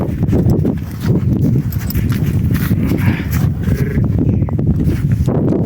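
A young draft stallion in Ukraine, a heavy draft horse, clip-clops continuously at close range, the rapid hoof strikes blending into a dense, steady clatter with no talking.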